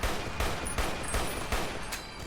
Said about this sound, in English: There's going to be enemies firing at us.